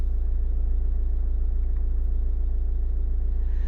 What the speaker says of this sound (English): and the car is running perfect